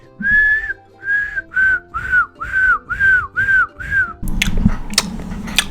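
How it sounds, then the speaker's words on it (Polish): Someone whistles eight short, evenly spaced notes that each rise and dip, followed by a burst of rustling and handling noise. "Też potrafię gwizdać"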